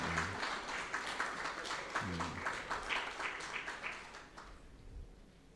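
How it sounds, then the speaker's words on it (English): Audience applause at an insurance brokers' association conference in Mbarara, Uganda, a full room clapping steadily in a dense patter that fades toward the end. "The habit of the conference is clapping."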